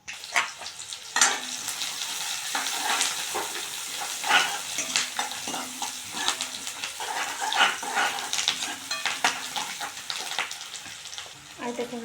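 Onion sizzles and crackles in hot oil while a spoon scrapes and stirs it, a steady close frying hiss broken by frequent stirring clatters, for a Marathi dish made with leftover chapatis.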